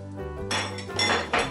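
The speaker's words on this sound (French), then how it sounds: "et je fouette." Egg yolks and sugar being whisked in a saucepan, a metal whisk knocking and scraping against the pan in a few quick clattering bursts at close range, with no talking.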